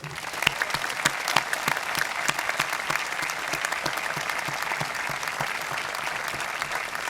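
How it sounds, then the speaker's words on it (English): At a 2015 Oglethorpe University commencement, a crowd applauds the Golden Petrels graduates with loud, sustained clapping that stays full and even from start to finish. "Please join me in applauding our Golden Petrels"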